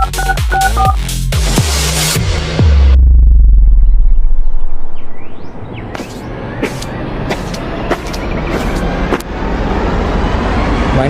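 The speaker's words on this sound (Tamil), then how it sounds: "இங்கே ஏதோ நம்பர் இருக்கு, நான் கால் பண்ணுறேன்." Phone dialing tones in a short film, a quick run of electronic beeps at the start, followed by a low rumbling swell and then busy background noise with high chirps.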